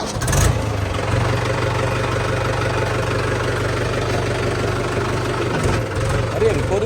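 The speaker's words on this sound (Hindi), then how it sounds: "चलो चलो अपना ट्रैक्टर गाड़ी निकालो।" A toy tractor's motor rumbles into life and then idles in a loud, steady drone that holds almost unbroken for several seconds, close to the microphone.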